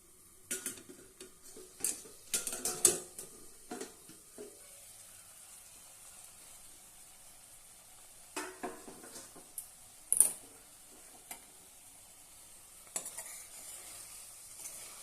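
Bitter gourd sabzi cooks in a covered pan, a faint, quiet simmer broken by scattered clinks and knocks of utensils and a lid, close by and without any talk.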